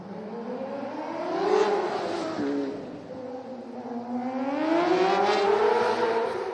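A dirt track race car runs a practice lap in an indoor arena at the PPL Center in Allentown, Pennsylvania, its engine droning and rising and falling in pitch as it circles, steady and moderately loud throughout.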